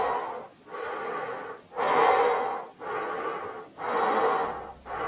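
A tired demon in a cartoon pants heavily, with about five long, loud, rasping breaths in a slow, even rhythm close to the listener and no talk over it.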